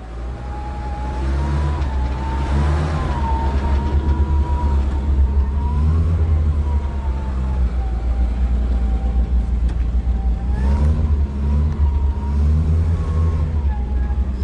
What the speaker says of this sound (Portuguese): É o Opalão 70 saindo apertado,